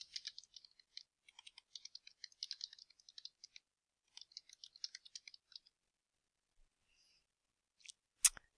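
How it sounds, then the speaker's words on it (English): Quick bursts of light keystrokes tap on a computer keyboard, pausing briefly, then a final sharper click at the end. "I can just start typing."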